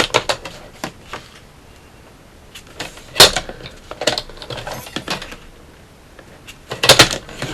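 A bone-folder score tool dragged along a paper trimmer's half-inch groove on heavy junk-journal paper, making scattered sharp scraping and clicking strokes at close range, with one bright scrape midway and a louder cluster near the end, no talking.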